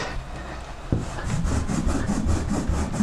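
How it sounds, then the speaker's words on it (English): A charcoal-dirty eraser scrubbed against a rough wall makes a close, steady gritty rubbing, with rhythmic back-and-forth strokes that begin after a brief quieter moment and carry on to the end. "This surface of this wall happens to be rough enough, so you just sort of erase it off of that."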